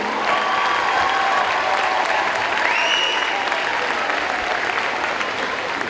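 A crowd claps steadily at a high school pep rally in a gym, the applause broad and sustained at an even loudness for several seconds, with faint voices mixed in.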